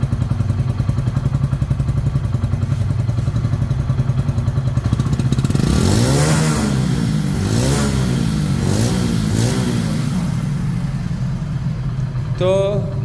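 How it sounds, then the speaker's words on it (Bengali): A Hero Splendor Plus 2023 model motorcycle engine idles with a steady low rumble, then revs up several times in rising, falling bursts, close and loud. "তো রানিং অবস্থায় গাড়িটির সাউন্ড শুনবে তো"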